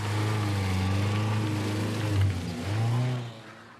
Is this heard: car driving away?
yes